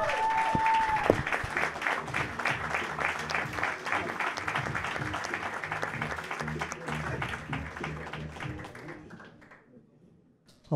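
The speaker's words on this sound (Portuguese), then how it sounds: "uma nova, enorme salva de palmas, é este aqui," A comedy audience applauds as comedian João Almeida is introduced, a steady wash of clapping that follows a brief tone and gradually fades out near the end.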